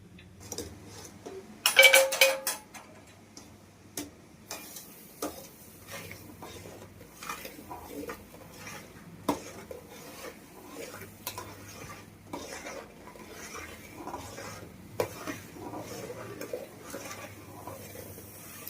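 Semolina (rava) stirred in a pan for a sweet, the spoon scraping and clinking against the metal in repeated, uneven strokes, with a louder clatter near the start and otherwise moderate, steady scraping.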